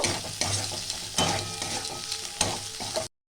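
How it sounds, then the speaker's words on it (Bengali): Dried chili and spices fried and stirred in a pan for a Bengali cabbage dish, with a crackling sizzle and repeated scraping stirs in uneven bursts that cut off abruptly near the end. "শুকনো এক লঙ্কা এক চামচ এটা ভালো করে কষিয়ে নেব"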